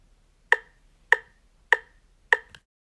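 Metronome clicks at 100 BPM marking out a whole note, four evenly spaced sharp ticks followed by a faint trailing click, crisp and close against near silence with no voices.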